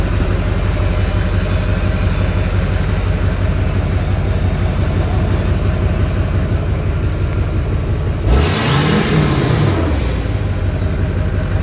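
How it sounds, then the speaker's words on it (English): LBZ Duramax diesel pickup, a 2007, fitted with a 5-inch downpipe-back Magnaflow exhaust, rumbles steadily up close, then swells in one short rev around the eighth second before settling back to idle; no talking. "See if I can give it a little rev."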